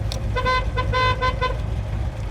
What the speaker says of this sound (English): 69 Chevelle, horn